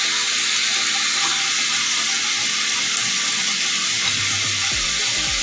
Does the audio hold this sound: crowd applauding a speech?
no